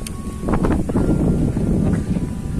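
Cold wind blows at Marina Lusail, rumbling and buffeting the microphone in a loud, continuous gusty rush that swells and eases over a few seconds.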